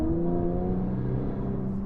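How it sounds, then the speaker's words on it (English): The Nissan Z Proto's exhaust in Sport Plus mode hums as a steady, throaty engine drone for a couple of seconds, sustained at a moderate level with no talking. "The exhaust does get a little bit louder when you shift it into Sport Plus."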